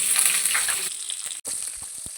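Five or six small onions drop into hot oil already crackling with curry leaves for a fish kuzhambu, giving a steady, loud, close sizzle that softens briefly, cuts out for an instant, then carries on.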